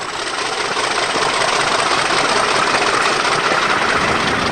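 A British Rail Class 50 diesel locomotive hauls a train of air-conditioned coaches westbound at Westbourne Park, its steady engine roar and rolling rumble loud and continuous throughout with no voices.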